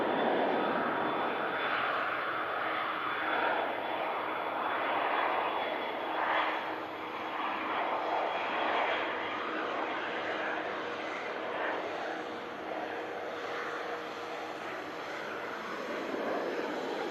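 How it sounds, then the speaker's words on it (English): A Dassault Falcon 900 business jet's engines spool up at a foggy Manchester Airport, a continuous distant roar with a faint rising whine, moderately loud and steady throughout. "As the aircraft is about to vacate, Falcon 900 spools up."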